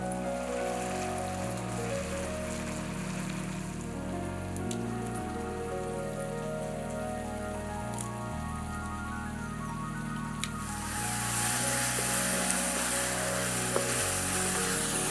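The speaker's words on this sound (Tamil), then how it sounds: "வெங்காயம் நல்லா வதங்கிட்டு இருக்கு" Onions sauté in a pan for a dried fish curry, giving a constant soft sizzling patter like light rain, close and even, swelling brighter and louder toward the end, with no talking.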